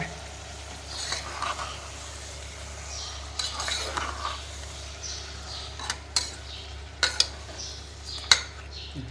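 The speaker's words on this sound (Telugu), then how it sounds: "తిప్పు బాగా" Biryani is stirred in a pot with a metal spoon, scraping and clinking against the sides in uneven bursts over a low background hum, with sharper knocks toward the end.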